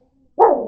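A pet dog at home gives one sudden, loud bark close by, then a rough, drawn-out growly tail after a brief quiet start.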